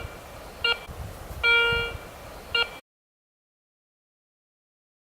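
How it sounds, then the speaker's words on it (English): Short electronic beeps from a Garrett Ace 150 metal detector sweeping over buried scrap metal outdoors, three tonal signals with the middle one longest, then silence. "my detector was giving me an excellent signal, telling me there was another coin under there"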